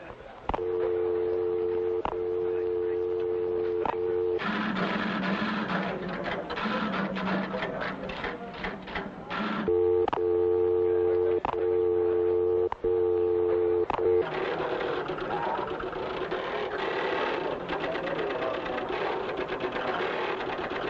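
Telephone dialing tones: steady two-tone beeps sounding in long stretches and alternating with busier mechanical clatter and rapid clicks, fairly loud and close with little talk.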